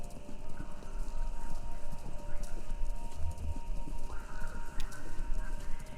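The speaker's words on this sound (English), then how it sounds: "Sounds like horses. Horses running a race?" Racing horses in the video game Kentucky Route Zero, a dense continuous rumble of galloping hooves with scattered clip-clops, moderately loud against a faint background.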